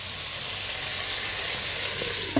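Onions frying in a pan give off a steady soft sizzle and hiss, close and continuous, with a small clatter right at the end.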